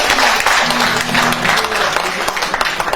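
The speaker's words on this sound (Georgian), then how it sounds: "უნდა აპლოდისმენტები" A theatre audience at a jubilee evening at the Griboedov Theatre breaks into dense, close applause, with many hands clapping continuously for a few seconds.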